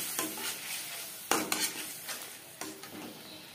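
Fish curry with tilapia sizzles in the pan as a little water is added, giving soft frying hiss broken by a few sharp clinks and scrapes of a utensil against the pot, close by with no voices.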